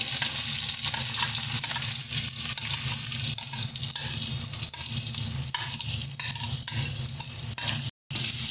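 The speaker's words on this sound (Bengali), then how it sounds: "সমস্ত ভেজিটেবিলগুলো দিয়ে সুন্দর করে এটাকে আমরা ভেজে নেব" Carrot, beetroot and peas fry together in a pan for vegetable chop, giving a steady, close hiss and sizzle with scraping stirs of a spatula running through, and a brief cut near the end.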